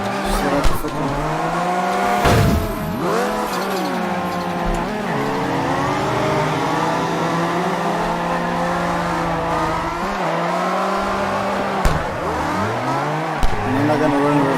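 Car engine roaring in long sustained pulls with gliding pitch and tire squeal while drifting in CarX Drift Racing Online, loud and continuous with brief drops around gear changes and a voice talking over it.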